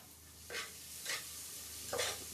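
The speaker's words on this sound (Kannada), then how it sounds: "ಈರುಳ್ಳಿ ಹಾಕಿ ಫ್ರೈ ಮಾಡೋಣ." Chopped onions fry in a pan for soya pulao with a soft, steady sizzle, and three brief stirring scrapes rise above it at roughly even intervals.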